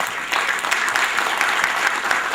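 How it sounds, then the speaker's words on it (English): Audience applause for guests being seated on stage at an award function in New Delhi, a steady dense clapping that fills the whole stretch at an even, fairly loud level. "Let's give them a warm round of applause, ladies and gentlemen."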